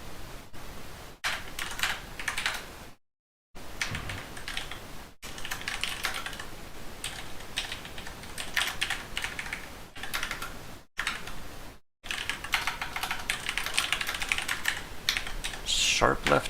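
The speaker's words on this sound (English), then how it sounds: "I'm gonna do a lot of boring typing." Fingers type steadily on a computer keyboard, a dense run of close, crisp key clicks broken by a few short pauses, with occasional faint speech.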